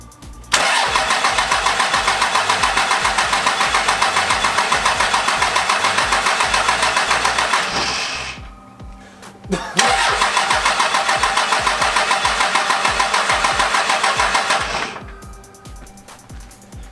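A Cummins diesel engine cranks on its starter in two long, rhythmic bursts, each about seven seconds, separated by a short pause, loud and close, without catching.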